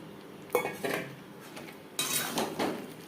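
Potatoes tipped into a pan of spiced masala for niramish alur dum, two bursts of clattering metal utensil and pan knocks, close and fairly soft.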